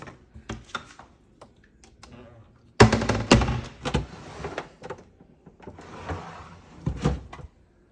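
Kitchen drawers with matte black handles and a lip underneath opening and closing nearby, a series of clunks and slides with a louder burst of rolling and knocking in the middle, no talking.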